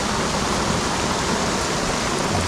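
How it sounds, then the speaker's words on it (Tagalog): Heavy rain falls steadily during bad weather on a fishing trip, a dense, even hiss with no breaks and no voices. "hindi kami makapangisda muna ni Kahasang, patilain namin yung ulan kasi ganun din mga ka-adventure na mahirap mangisda."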